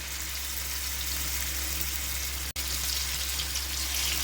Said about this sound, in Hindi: ऐसे सब तरफ से घुमा घुमा कर हम इसे फ्राई करेंगे।